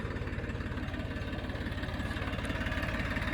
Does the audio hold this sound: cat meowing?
no